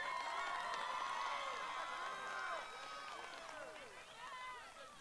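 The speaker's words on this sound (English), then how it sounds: "Big round of applause to our academic decathlon award winners." Crowd cheering and shouting at a high school graduation ceremony, a loud, dense wash of many voices with whoops, continuous and easing slightly toward the end.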